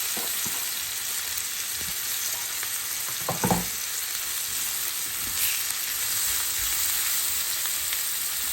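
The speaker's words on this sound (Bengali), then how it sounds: "আমি এখন পেঁয়াজ বেরেস্তা দিই" Sliced onions fry for beresta in a pan, giving a constant close sizzle and crackle with a few brief stirring scrapes; no voices.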